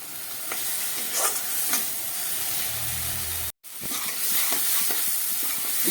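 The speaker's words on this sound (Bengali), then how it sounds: "এই সব কিছু দিয়ে আমি খুব ভালো করে এবার মশলাটাকে কষাবো" Spice masala for a prawn curry sautéed on a low flame, a continuous hiss of frying with periodic spatula scrapes and stirring knocks, close by, with a brief dropout near the middle.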